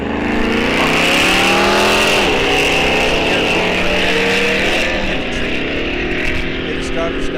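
Drag racing launch at Rock Falls Raceway, a Pontiac G8 against a 1971 Plymouth Duster: loud, continuous engine roar with rising revs, close and steady throughout, with an announcer talking over it.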